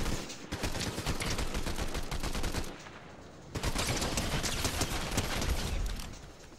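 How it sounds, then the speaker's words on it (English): Rapid bursts of automatic gunfire in a video game, dense rattling volleys lasting a few seconds each, with a short pause between two loud sustained strings of shots. "Somebody shooting at me again?"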